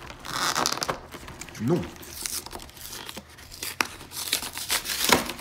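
A Pokémon Charizard GX card box is unwrapped, with plastic wrapping tearing and crinkling in short close bursts while a voice talks over it.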